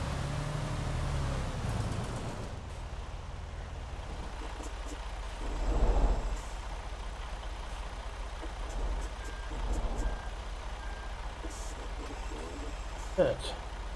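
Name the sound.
truck being parked in Euro Truck Simulator 2 video game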